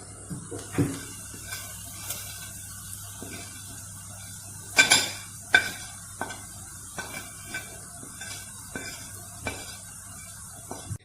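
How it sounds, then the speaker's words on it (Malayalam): Spice masala frying for a mutton curry, a soft sizzle under intermittent spoon taps and scrapes on the pan, with one louder clatter partway through. "മസാലയൊക്കെ നന്നായി ഫ്രൈ ആയി വന്നിട്ടുണ്ട്"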